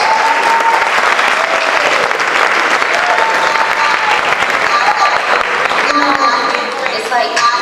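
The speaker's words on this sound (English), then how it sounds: "Let's give them a nice round of applause" An audience applauds steadily as a band returns to the stage at the Foxy Variety Show, a dense, loud wash of clapping throughout with some voices and whistles mixed in near the end.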